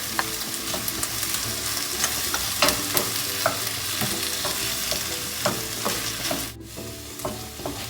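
Chili sauce, tomato paste and other sauces are stirred in a hot pan for a chilli mushroom dish, a loud continuous sizzle with repeated ladle taps and scrapes at an uneven rhythm.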